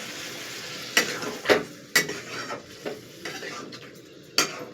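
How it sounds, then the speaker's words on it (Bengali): Soybean and pointed gourd curry being stirred in a pan, a utensil scraping and clinking against the metal in a few sharp strokes over a soft background sizzle, with no talking. "দেখতেই পাচ্ছেন নেড়ে নেড়ে নিয়েছি ভালো করে ওপর নিচ করে"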